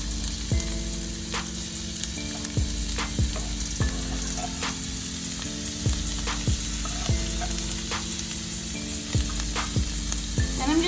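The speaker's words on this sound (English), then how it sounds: "take your onions and drop them right in" Onions sizzling in a hot pan, a steady close frying hiss with periodic clicks and a repeating low tonal hum in the background.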